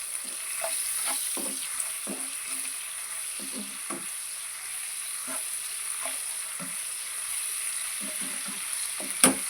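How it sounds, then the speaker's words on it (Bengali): Salted onion frying in a pan until light brown, a steady soft sizzle broken by repeated gentle stirring scrapes at an irregular rhythm, close but fairly quiet, with no talking. "ভালো করে পেঁয়াজটা হালকা বাদামি কালার করে নিতে হবে।"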